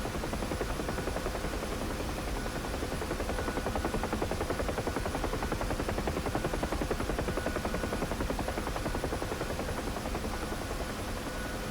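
A simulated Huey helicopter in DCS roars past a military airfield's parking area, its rotor thudding in a fast, steady chop under a constant engine drone, loud and unbroken throughout.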